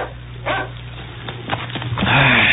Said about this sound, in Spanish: el perro negro que tiene para que cuide la casa